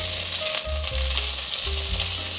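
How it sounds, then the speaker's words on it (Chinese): Celery stir-fried in a hot pan for a vegan tomato dish, a loud, constant close sizzle with quick tossing and scraping sounds running throughout. "现在可以把芹菜放进来了，快速翻炒。"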